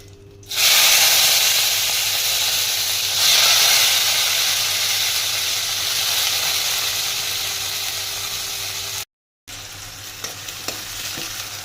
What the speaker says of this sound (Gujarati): આપણે હિંગ નાખીને વઘાર કરી લઈએ ડુંગળીનો.